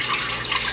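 Almond milk pours into a pot on a stove for oatmeal, a brief continuous liquid splash and gurgle, close and steady for under a second.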